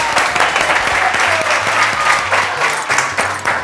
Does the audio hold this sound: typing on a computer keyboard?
no